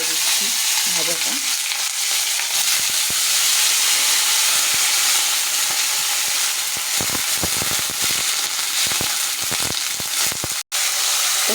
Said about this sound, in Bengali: আমি যেহেতু তেলটা গরম হয়ে গেছে, এখন আমি ছেড়ে দিচ্ছি ভাজাটা